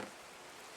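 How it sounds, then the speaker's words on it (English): Minecraft rain falls as a faint, even hiss of steady patter, unbroken and with no voices over it. "Why is it raining?"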